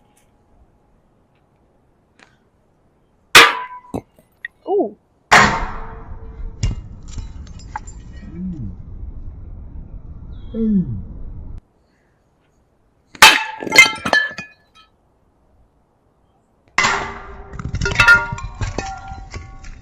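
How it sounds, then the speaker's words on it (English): An old Head tennis racket is struck with a hammer in several loud, sharp clanging blows in separate bursts, each followed by rattling and cracking debris. Long quiet gaps fall between the bursts, and a voice briefly exclaims. "so I don't get sued by Head for using an old racket, we're gonna go at it with a hammer"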